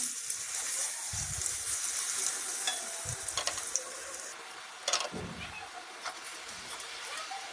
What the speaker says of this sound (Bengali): ওই তেলেই এক টুকরো বেগুন ছিল, সেটাই একটু ভেজে নিই।